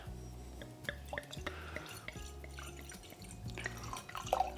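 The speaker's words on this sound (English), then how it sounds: "So we'll pour ourselves a glass and we'll see what it tastes like" Homemade Shiraz wine from a California Shiraz kit poured into a glass, a quiet trickling, dripping liquid stream with small splashes against faint background noise.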